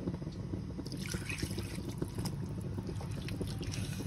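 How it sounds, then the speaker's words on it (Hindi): Water poured into a pan of fried potatoes with fenugreek gives a steady, faint trickle and light splashing that runs without a break in a home kitchen. "अब इसमें मैं थोड़ा सा पानी शामिल कर देती हूँ जिसमें हमारे आलू सॉफ्ट हो जाए।"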